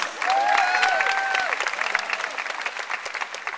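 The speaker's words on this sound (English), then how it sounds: "Give yourselves a round of applause." A graduating class and audience break into a round of applause at a graduation ceremony, dense clapping swelling in quickly and then thinning and fading gradually, with a few voices faintly mixed in.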